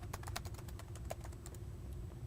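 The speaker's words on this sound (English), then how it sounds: "typing is not my best skill" Keys clatter in a fast, uneven stream on a computer keyboard, soft and close over a faint steady hum, with no talking.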